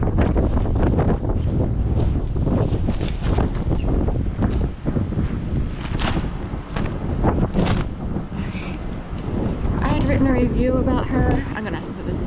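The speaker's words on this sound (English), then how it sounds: "I'm gonna have to put this down because it's too windy here." Strong wind buffets the microphone outdoors on a brutally cold street, a loud continuous roar with gusty surges, while a person talks underneath it throughout.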